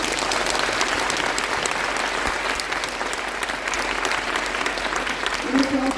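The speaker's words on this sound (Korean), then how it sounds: "큰 박수 부탁드립니다" A lecture audience in Bucheon gives sustained applause for former Constitutional Court justice Moon Hyung-bae after his 90-minute integrity talk, a thick, steady patter of many hands that runs the full length, with a faint voice near the end.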